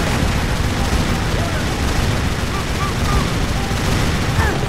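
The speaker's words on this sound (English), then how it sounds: "Machine gun's cool, but I'm not very good at using it." Sustained machine gun fire in Tomb Raider: Legend, a dense, loud and continuous rattle of shots with chaotic game noise mixed in and no break for the whole stretch.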